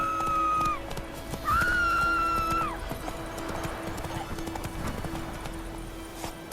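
Roach the horse in The Witcher 3: Wild Hunt clops along at a steady pace, with two loud, drawn-out whinnies near the start before the hoofbeats continue alone.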